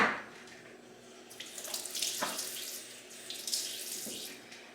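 Water runs steadily from a kitchen tap as fruit or vegetable tops are rinsed, a close, continuous splashing with shifting spatter as hands move under the stream, no talking.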